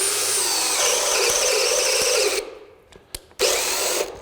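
A DeWalt Atomic compact 20V brushless drill/driver bores a hole with a loud, steady high-pitched whine that cuts out abruptly, then gives a couple of short bursts before spinning up again.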